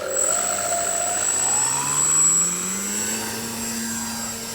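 The electric motor of a Dynam Tiger Moth RC model airplane runs with a loud, steady whine and propeller buzz. Its pitch slowly rises and shifts at close range, with no speech.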